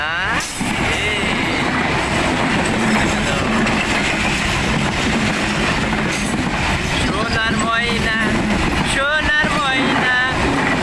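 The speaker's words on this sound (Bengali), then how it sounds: "আর একটা সোনামুখী ট্রেন চলে আসছে" A train passes close by at night with a loud, continuous rumble and rattling of wagons and occasional high wheel squeals, while people talk over it.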